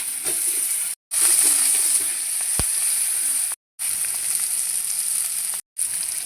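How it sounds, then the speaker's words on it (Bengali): A fried fish head with chillies lands in a pan of jute greens, giving a loud, close sizzle broken by brief silent gaps, with a single sharp clink partway through. "এবার দিয়ে দেবো এই শাকে লঙ্কা দিয়ে ভেজে রাখা মাছে মাথাটা"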